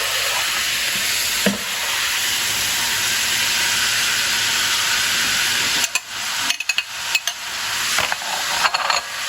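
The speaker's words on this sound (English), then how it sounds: "Now we're going to be adding the onions and garlic." Onions and garlic sizzle loudly in a pan in a home kitchen as the base for a shepherd's pie, a steady broad hiss for about six seconds that then breaks into choppier bursts of crackle and gaps, with no talking.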